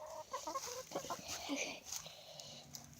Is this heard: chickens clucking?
yes